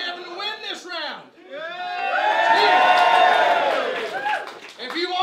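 Audience at a rap battle cheering and whooping in a swelling burst of crowd noise, with a host speaking before and after it.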